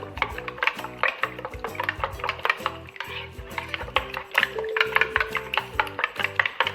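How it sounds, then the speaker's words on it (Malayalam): Egg and milk stirred together in a bowl for bread pathiri, giving a steady run of close, rapid clinks and scrapes of a utensil against the bowl with no talking. "എന്നിട്ട് നന്നായിട്ടൊന്നും കൂടി മിക്സാക്കി എടുക്കണം."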